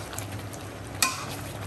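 Mutton curry being stir-fried in a pan, with a quiet steady sizzle and soft scraping, and a single sharp clack of a spoon against the pan about halfway through.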